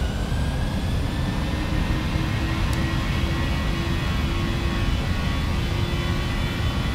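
Jet engines of a PMDG 737NGX in a flight simulator spooling at takeoff power, a steady loud roar with a low rumble and a faint whine above, continuous and unbroken throughout.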